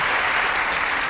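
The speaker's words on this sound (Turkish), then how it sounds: "Efendim, üçüne de bir alkış," Studio audience on a Turkish TV talk show applauding, a brief, dense and loud burst of many hands clapping with no voices.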